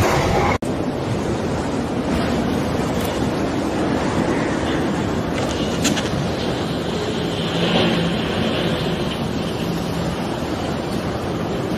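Strong wind, heard as a loud continuous roar and buffeting against the microphone, staying near and steady throughout with no clear pauses.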